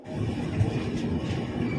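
A train hauled by a WAG-9 electric locomotive rolls past near Coimbatore Junction, producing a close, continuous low rumble with a faint rattle of wagons.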